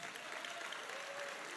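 Quiet, steady applause from a crowd at a Korean political party event, acknowledging an election candidate, a brief continuous patter heard faintly and at a distance with no voices over it.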